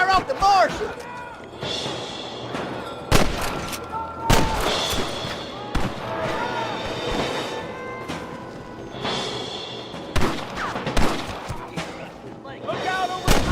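Gunfire in a Red Dead Redemption shootout: sharp shots crack out in an irregular scatter, some loud and close, between stretches of shouting and talk from the characters.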